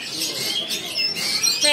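A rare bird calls in a pet-bird shop kiosk, giving thin, high chirps and whistles over a busy background where people are talking.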